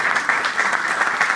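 Audience applause during an inauguration speech, a brief burst of dense clapping from a crowd, close and steady without speech over it.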